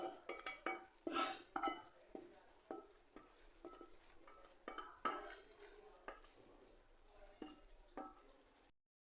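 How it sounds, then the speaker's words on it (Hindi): Cornflour being mixed by hand into a chicken and mixed-vegetable kebab mixture in a bowl, with repeated soft clacks, scrapes and knocks of a utensil against the dish in an uneven rhythm, close and fairly quiet. "सारा ये मैं इसके अंदर मिक्स कर लूँगी"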